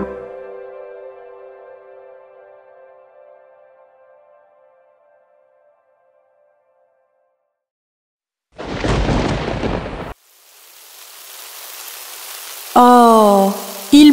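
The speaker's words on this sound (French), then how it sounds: "Oh, il pleut!" A burst of rain-like hiss after a fading musical tone, then a rushing wash of noise and a sung tone at the end.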